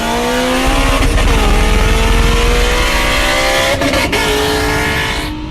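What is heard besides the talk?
800whp Ford GT350 and 600whp Porsche 911 Turbo street racing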